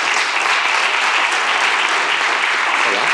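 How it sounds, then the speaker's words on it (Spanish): Loud, dense audience applause fills a conference hall as a patient advocate from a patient movement is welcomed to the stage, steady and sustained throughout with no break. "pido un fuerte aplauso para él"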